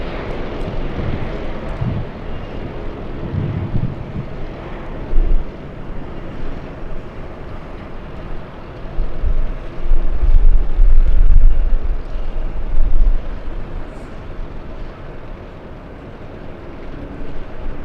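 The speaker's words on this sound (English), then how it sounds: "Air Canada 554 flying in from Vancouver. A 2-hour, 16-minute flight for the 737 MAX 8." An Air Canada Boeing 737 MAX 8 on final approach into LAX, a steady broadband jet roar with wind buffeting that swells and grows louder midway before easing off, heard from outdoors at a distance.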